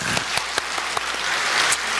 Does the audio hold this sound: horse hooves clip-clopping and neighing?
no